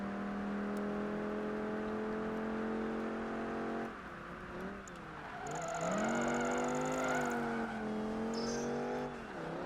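Racing car engine in Project Gotham Racing 3 during a World Endurance Eliminator event, a sustained droning whine that shifts pitch as it revs up and down through gear changes, steady and moderately loud.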